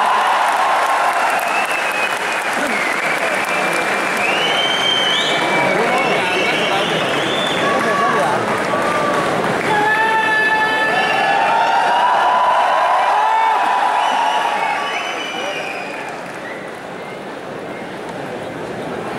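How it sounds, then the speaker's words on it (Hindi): An audience at a Hindi-Urdu poetry recital gives loud, sustained applause that carries on through most of the stretch, with voices calling out over it before it thins near the end. "जोरदार ताली के साथ"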